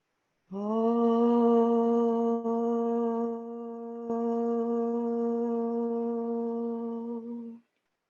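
A single voice chants a long, steady Om, sustained for about seven seconds on one low pitch with a brief dip midway.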